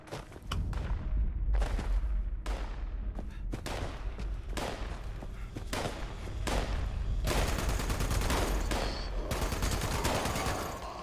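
Gunfire in Fallout 76: a loud, steady run of sharp shots, some spaced and some in rapid bursts, building into continuous automatic fire near the end, with no talking.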